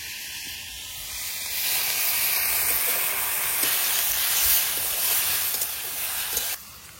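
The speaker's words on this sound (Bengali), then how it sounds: "ব্রকলি ভাজা হয়ে গেছে, এখন দেবো জল।" Water poured into a pan of frying broccoli gives a loud hissing sizzle and rush of steam that rises after a quiet start, stays strong for several seconds, then cuts off abruptly near the end.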